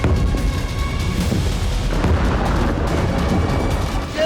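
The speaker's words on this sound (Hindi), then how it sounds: "दूसरा धमाका" Blast from an Israeli airstrike on Lebanon, heard as a continuous heavy rumbling roar with a few sharper bursts, loud and close throughout.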